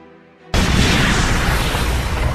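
A massive explosion shock wave hits suddenly after a faint low rumble, then holds as a loud, dense, roaring boom that fills the remaining seconds without letting up.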